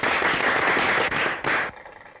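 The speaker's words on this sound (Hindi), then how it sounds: "तालियां!" Audience applause during a Hindi storytelling programme about Bollywood actor Shakti Kapoor, a dense burst of clapping that breaks off briefly twice and then stops abruptly.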